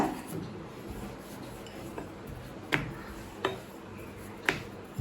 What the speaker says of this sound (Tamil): கொஞ்சமாக மாவு எடுத்துக்கிட்டு தேய்க்க ஆரம்பிச்சிடலாங்க